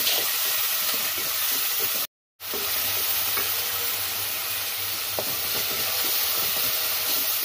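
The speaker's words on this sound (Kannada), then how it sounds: "ಟೊಮ್ಯಾಟೋನ ಹೆಚ್ಕೊಂಡಿದ್ದಲ್ವ, ಅದನ್ನು ಆ್ಯಡ್ ಮಾಡ್ತಾ ಇದ್ದೀನಿ. ಓಕೆ, ಇವಾಗ ಮತ್ತೆ ಇದನ್ನು ಫ್ರೈ ಮಾಡ್ಕೋತಾ ಇದ್ದೀನಿ" Chopped tomatoes frying in a pan for chicken curry, a steady loud sizzle and hiss with faint stirring scrapes, broken by a brief silent gap.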